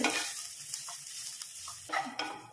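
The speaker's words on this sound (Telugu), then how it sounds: "ఒక స్పూన్ నెయ్యి వేసి కొబ్బరి కూడా పచ్చివాసన పోయే వరకు అంతా వేయించుకోవాలి." Grated coconut frying in a spoonful of ghee over low to medium flame, stirred with soft scraping strokes over a steady, gentle sizzle, with a few slightly louder stirring bursts near the end.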